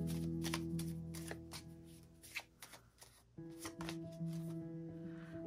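Lenormand cards being shuffled and drawn, a run of crisp rhythmic card slaps and riffles, close and fairly quiet over a faint steady tonal hum.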